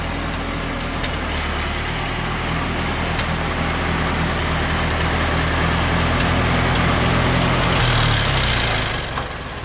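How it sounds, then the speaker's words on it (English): A Ford 2N tractor engine runs steadily at close range with a low, rumbling idle-like drone, then begins to fade as the tractor moves off near the end. "let me bring the tractor over."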